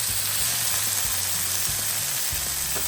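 Tomato and shallot hit a hot pan and sizzle steadily, with a dense crackling hiss throughout and faint clinks of utensils underneath.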